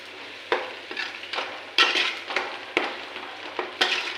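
Something being fried until red in a pan, with the spatula scraping and knocking against the metal in quick bursts about every half second over a continuous sizzle, close and fairly loud, no voices.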